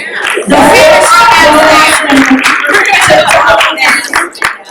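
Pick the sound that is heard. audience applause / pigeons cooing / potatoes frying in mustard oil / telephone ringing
audience applause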